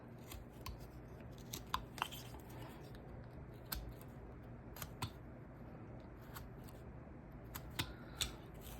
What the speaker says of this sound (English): I'm going to just push my knife in, pull it off.